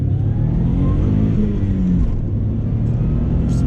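A JDM Subaru WRX with double-cam engine revs hard to around 6,000 RPM while driving a road, a close, loud rising engine note with a gear-change dip near the end.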